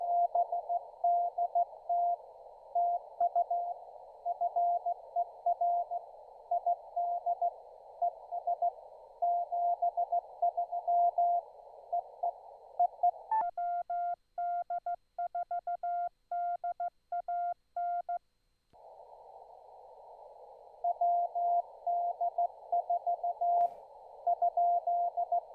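Morse code keyer sidetone at an amateur radio station on a POTA activation, a steady single-pitch tone keyed in rapid dits and dahs, pausing briefly midway before resuming, with no voices.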